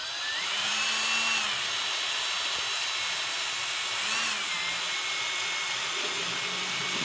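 A power drill driving screws into the leading edge of a J-3 Piper Cub wing, with two or three rising whirring bursts separated by quieter pauses, close by and without talk.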